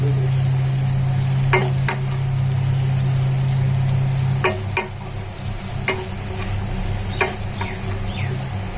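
Eggplant fries for South Indian sambar with a steady close sizzle, while a spoon stirs and scrapes the pan in occasional sharp clicks spaced a second or two apart.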